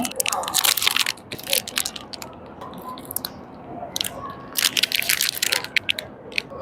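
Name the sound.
biting and crunching vegan Dubai chocolate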